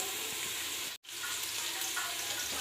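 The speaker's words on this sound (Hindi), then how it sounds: "अब इसको भी हल्का सा फ्राई कर लें।" Ginger garlic paste frying in a hot pan for a potato and eggplant curry, a steady close hiss and sizzle with a brief silent cut partway through.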